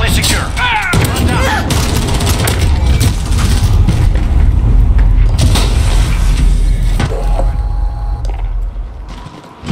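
A first-person shooter match with a grenade blast and bursts of gunfire, dense booming and crackling shots overlapping across the clip, loud and close throughout.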